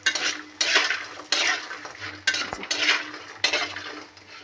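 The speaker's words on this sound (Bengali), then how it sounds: "আজকে কড়াইতে বড়ি ভাজতে বসিয়ে দিয়েছি।" Lentil dumplings made from black gram (biulir dal bori) fry in a wok. A steady sizzle runs under repeated sharp scrapes and clatters of a metal spatula stirring them, close and loud, with no talk.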